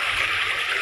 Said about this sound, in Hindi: ओह ये झरना का आवाज़ पूरा दिल छू देता है